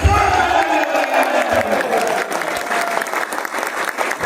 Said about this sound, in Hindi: अरे इतने जोशीले सेशन के बाद फिर इतनी सी तालियां बनती है क्या?